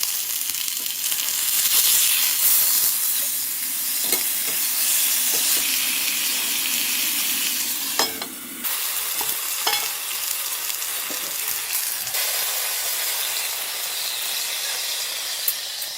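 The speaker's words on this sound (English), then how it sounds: "The sound of sizzling beef drowned out even the howling wind." Beef fries in a hot pan on a stove inside a tent during a blizzard, a loud, steady close sizzle and hiss with occasional clinks of stirring throughout.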